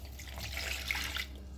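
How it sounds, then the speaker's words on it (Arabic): Water pours from a glass into a bowl of pizza dough mix that holds yeast and sugar, giving a soft, steady splashing trickle at close range for just over a second. "وغادي نحطو كاسة ماء"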